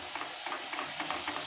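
Sautéed spices for a besan and onion curry are stirred in a pan, a steady close sizzle with faint scraping strokes.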